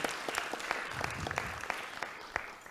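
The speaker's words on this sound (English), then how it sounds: "And can we give them a hand of applause?" Applause from a Rotary club audience for committee members, a moderate room of clapping hands with distinct individual claps, fairly quiet and steady, fading slightly at the end.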